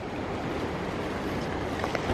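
Waterfalls along a hiking route rush in a steady, dense wash of water noise, close and continuous, with no voices.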